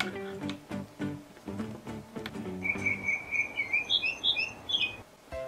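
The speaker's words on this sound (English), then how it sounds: "Sounds like these birdies are happy." Toy birds in a children's nest-sorting game chirp in a bright, repeating electronic series of tweets, following a short run of plucked musical notes.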